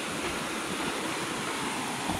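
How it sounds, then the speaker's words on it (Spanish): The wild Cuaca river rushes below a hanging footbridge, a dense, constant roar of fast-flowing water filling the scene at close range, with no speech. "este es el río de Cuaca, mira."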